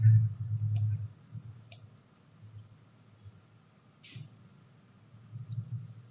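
A computer mouse clicks a few times, sharp quick clicks spread across the stretch, with low background murmur and no clear speech.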